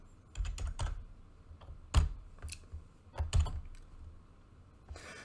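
Someone types on a computer keyboard in quick clusters of keystrokes, separated by short pauses and ending with a final tap, close and clear, with no voices.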